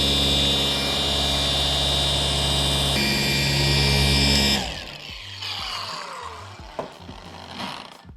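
A handheld car polisher spins at high speed while working polish into paint, a loud steady whine that runs alone for several seconds and then cuts out, leaving quieter handling noises.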